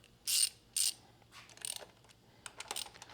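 A ratchet loosening the brake caliper bolts on a BMW S1000RR track motorcycle, heard as two short, close ratcheting bursts followed by softer clicks and mechanical rattles, with no talking.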